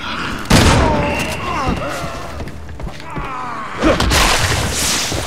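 A shotgun blast from Resident Evil 6 goes off as a loud, close boom, with a second heavy hit a few seconds later over game noise and talk.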